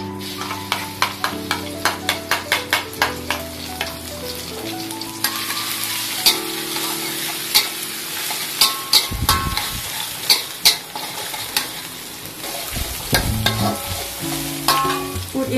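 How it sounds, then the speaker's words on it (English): Garlic and anchovies stir-fry in a home kitchen pan, a steady sizzle broken by rapid rhythmic scraping of a spatula against the metal and a few louder clanks, close and clear with no talking. "So first of all, stir fry the garlic with anchovies"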